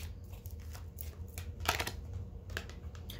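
Tarot card decks being shuffled by hand, a series of quick crisp riffles and soft snaps with brief pauses between them, close and fairly quiet.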